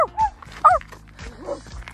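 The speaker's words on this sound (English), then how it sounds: "Try barking." A dog gives a few short yips and barks, close by, spaced irregularly over a brief moment in an outdoor setting at a fort.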